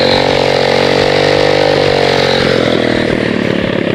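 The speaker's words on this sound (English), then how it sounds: "You gotta warm the motherfucking bike up." An SSR motorcycle engine running to warm up before an oil change, a loud, steady, close-up drone with a buzzy rattling texture that holds unbroken throughout, with no speech.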